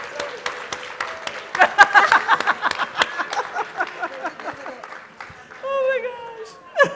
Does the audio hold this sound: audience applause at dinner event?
yes